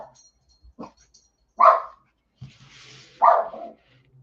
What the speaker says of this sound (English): And now Indy's barking